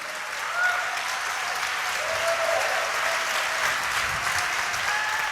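A church congregation applauds continuously, a broad even wash of many hands clapping at steady volume, with faint sustained tones and murmurs beneath.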